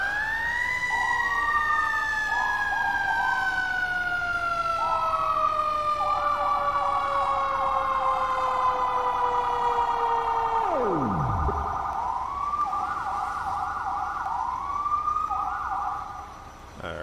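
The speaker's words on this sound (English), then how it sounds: "This has two sirens." A fire tanker in the video game EmergeNYC, on its Montgomery County map, sounds two sirens at once, one a long descending wail and the other a repeating yelp, both loud and close before one drops sharply away.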